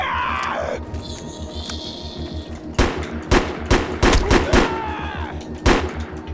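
Gunfire in the sci-fi shooter Defiance: a falling whine gives way to a string of sharp, loud shots in irregular bursts, some rapid, over a low rhythmic pulse of game background.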